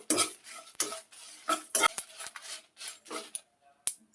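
Cumin and mustard seeds dry-roasting in a pan while being stirred, giving a close run of scraping, clinking strokes at an irregular rhythm, with faint sizzling between them and no talk.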